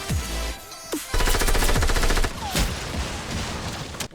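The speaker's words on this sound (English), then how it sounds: "Someone sniped the guy that was up here." Gunfire in a Fortnite match, with a sniper rifle shot among loud crackling bursts and rapid repeated reports that come in clusters, some close and heavy, others more distant, over busy game background noise.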